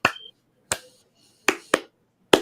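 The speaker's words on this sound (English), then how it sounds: "Has like the clapping." Sharp handclaps from a song recording ring out as five isolated, crisp claps at irregular intervals. Each is clear and close, with nothing else sounding in between.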